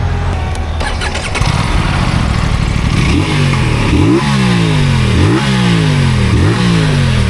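A motorcycle engine starts and idles briefly, then its exhaust revs repeatedly in rising and falling sweeps. The sound is loud and close with no talking.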